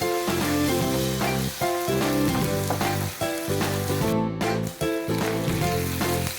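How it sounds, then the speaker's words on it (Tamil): Ginger garlic paste sautés loudly in a hot pan for a prawn dish, a dense, steady sizzle close by with brief dips as it is stirred. "இஞ்சி பூண்டு ஸ்மெல் போகிற வரைக்கும் நம்ம நல்லா வதக்கி விட்டுக்கலாம்"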